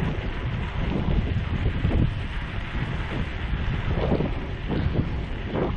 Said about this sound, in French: je pense qu'on a le vent dans le dos